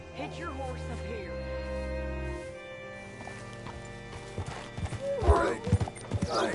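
Hooves clip-clop at a steady walking pace beneath a layered Red Dead Redemption 2 game soundscape, with a horse's whinny and snorting near the end.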